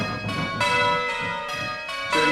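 A church bell rings in a bell-ringing simulator session, with several clear, resonant strokes following one another at a steady pace, each tone sustained and overlapping the next, and no one speaking.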